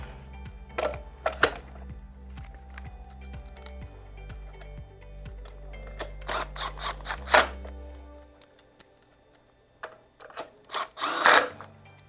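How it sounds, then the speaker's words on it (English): A power driver whirs in short bursts, driving screws back into the arms of a Steelcase Amia office chair, with the steady motor hum heard close. Clicks and handling noises follow as the bursts end. "reinstall the screws that we removed earlier"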